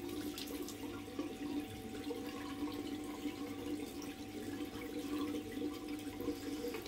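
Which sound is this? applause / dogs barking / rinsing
rinsing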